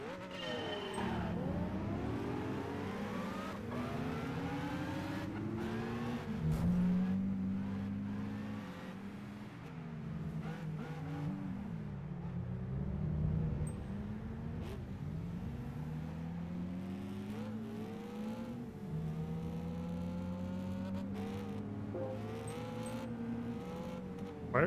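Race car engines in Gran Turismo 5 hold a continuous high whine, revving and shifting with rising and falling pitch as cars run close together through a race, loud and unbroken throughout.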